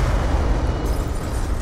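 Rumbling explosions from the zombies mode of a first-person shooter game fill a short, dense burst of low booming noise, loud and continuous with no talk over it.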